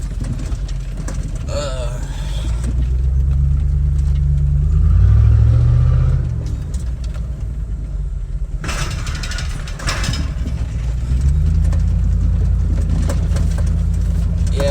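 A Chevy truck engine rumbles loud and close while driving through mud holes, swelling into a heavier rev partway through before settling back to a steady drone.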